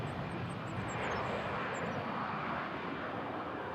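An airliner roars steadily down the runway on its takeoff at Toronto Pearson airport, a loud continuous jet-engine rumble with a faint high whine, heard from a distance without talk.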